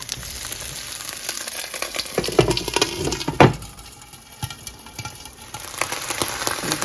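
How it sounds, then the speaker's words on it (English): Broccolini stalks sizzle and crackle in hot oil in a pan, a steady close fry with a few sharper pops and stirring scrapes, no voices. "to this oil, I'm going to add some of my broccolini stalks"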